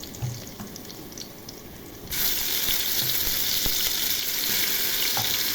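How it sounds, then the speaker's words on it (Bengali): Ginger-garlic paste hits hot oil with browned onions for a beef curry. A quiet start gives way to a sudden, sustained sizzle that stays loud and steady to the end. "আদা রসুনটা একটু ভেজে নেব।"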